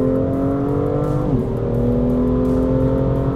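A BMW M2 accelerates hard from 0 to 100 km/h, the engine droning loud and steady from inside the cabin with a brief dip in pitch around a gear change before climbing again.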